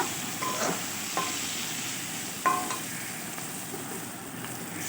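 Spice paste for a hilsa fish and eggplant curry sizzles softly in oil in a kitchen pan, a steady faint hiss with a few light scrapes of stirring, and no talk.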